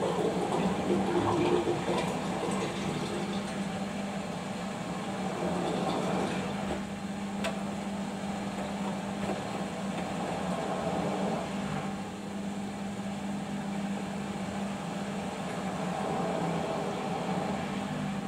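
A Bosch Ecosilence Drive washing machine drains after the first rinse on a 60-degree cottons cycle with bedding inside, a steady low pump drone and watery whoosh running continuously, with a faint click partway through and no one speaking.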